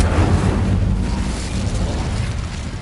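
Incendio fire spell cast in a Harry Potter video game, a dense, roaring burst of flame that stays loud and broad for a few seconds, sustained rather than a single bang.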